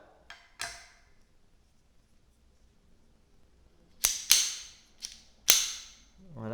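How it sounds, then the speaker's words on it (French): Sharp metallic clicks and clacks of a magazine being pulled from a Bulwark 6.35 mm (.25 ACP) pistol: a couple of light ticks, a pause, then four crisp close-up snaps in quick succession, with no talking. "on retire le chargeur"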